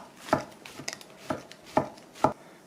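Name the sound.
knife julienning shiitake mushrooms on a cutting board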